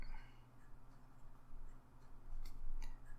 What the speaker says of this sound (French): allons voir comment ce TWSBI Draco écrit